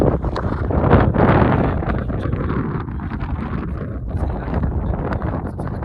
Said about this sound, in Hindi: हम आ चुके हैं पेंगोंग लेक के बिल्कुल सामने और हवा चल रही है बहुत तेज